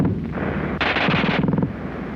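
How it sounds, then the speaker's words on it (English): German World War II machine gun firing very rapidly, a loud close burst of dense overlapping shots lasting under a second, set against steady roaring background noise. "the German gun fires faster than anything you've run into before"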